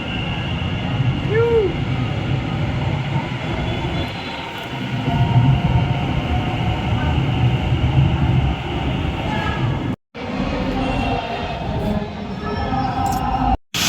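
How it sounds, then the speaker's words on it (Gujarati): An Ahmedabad metro train pulls away from a station with a steady rumbling roll that swells and holds, then a brief break and a final cut near the end, with no clear talk. "મેટ્રો જાય છે"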